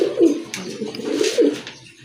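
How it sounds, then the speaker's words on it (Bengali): Several pigeons coo in soft, rolling low phrases, close by, overlapping one another in a steady murmur with no talk over them. "মাশাল্লাহ আরেক জোড়া কবুতর দেখতে পাচ্ছেন"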